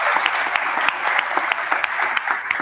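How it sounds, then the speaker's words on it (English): An audience at an insurance conference claps in a dense, sustained round of applause, fairly close and steady for a couple of seconds with no talk over it. "big round of applause for Tony's efforts"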